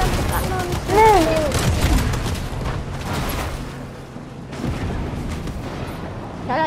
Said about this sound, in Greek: βάρα με το κανόνι πίσω